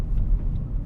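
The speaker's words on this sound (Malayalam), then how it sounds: "അതൊക്കെ ട്രാക്ടർ" Low, steady engine rumble from a tractor mowing grass, heard from a distance as a continuous deep drone during a holiday visit to Adelaide, South Australia, with no voices.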